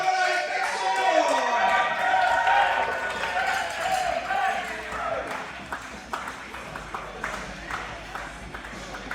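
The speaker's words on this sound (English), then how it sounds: "Very loud crowd here tonight" A loud crowd fills the arena at a live wrestling show, with sustained cheering and clapping that swells early and then settles into scattered applause and chatter.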